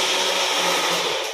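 A kitchen mixie grinder runs at full speed, a loud, steady, close whirring drone that holds evenly and then begins to drop away at the very end.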